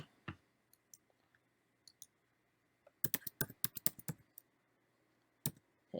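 Keystrokes on a computer keyboard while typing a command, a fast cluster of crisp clicks after a few scattered single taps, then one more isolated press and a final tap, close and fairly quiet with no talk.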